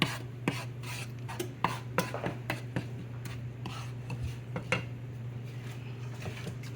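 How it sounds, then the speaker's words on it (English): A spoon scrapes and clinks against a pan while crab filling with vegetables is stirred, irregular close metallic taps and rubbing over a low steady hum. "And mix that in"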